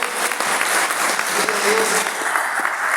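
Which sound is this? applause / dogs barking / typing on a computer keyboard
applause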